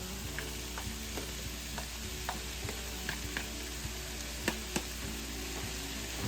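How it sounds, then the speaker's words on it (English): Onions and peppers frying in a pan, a soft, steady sizzle with occasional sharp taps and scrapes of a utensil, no voices heard. "peppers and onions been going about a minute, minute and a half. We'll add our onion in."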